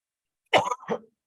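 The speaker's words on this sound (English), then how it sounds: "and now I'm coughing" Two harsh coughs in quick succession, close and fairly loud, followed by silence.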